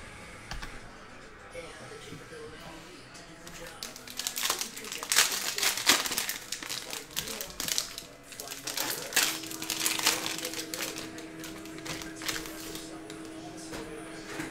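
Panini Mosaic basketball hobby packs being torn open, a close crinkling and ripping of foil wrappers with handling rustles throughout, while someone talks over it.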